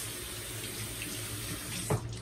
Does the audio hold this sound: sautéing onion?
no